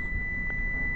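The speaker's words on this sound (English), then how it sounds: "the timer went off" A kitchen timer gives a steady high electronic beep, a single sustained tone lasting the whole second with a faint room hum beneath.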